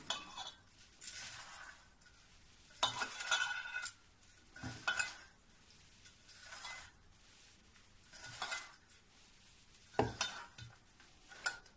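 Hands mixing a sweet mixture with cardamom powder in a metal vessel give intermittent quiet clinks and scrapes in short bursts with soft rustling between, close and faint.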